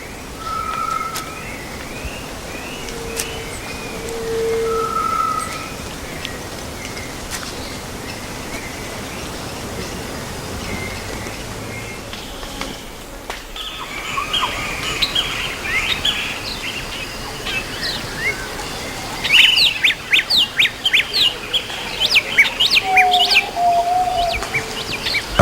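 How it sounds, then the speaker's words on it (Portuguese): Birdsong in a forest, attributed to a recently mated female: scattered chirps and clear whistled notes at moderate distance over a soft background hiss, growing busier with rapid trilled calls toward the end. "canto de trêmula satisfação da fêmea recém-coberta"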